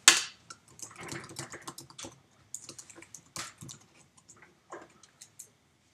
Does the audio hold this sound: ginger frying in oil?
no